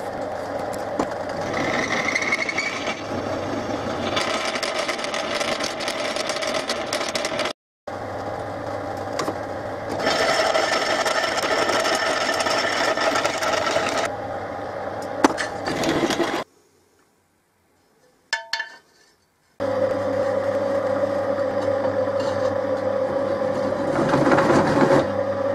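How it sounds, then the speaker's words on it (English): A drill runs in long, steady whirring bursts as progressively bigger bits open clearance holes in metal brackets, with brief pauses and a quiet gap between passes. "all I'm going to do is run progressively bigger drills through those holes until we've got the right clearance"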